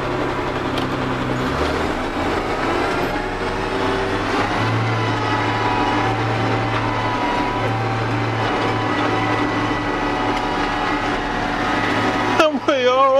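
A JCB Fastrac tractor working in a field with the PTO engaged; its engine drones steadily, then steps up to a higher, louder hum as the revs rise midway.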